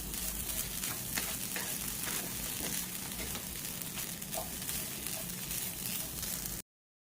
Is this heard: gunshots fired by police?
no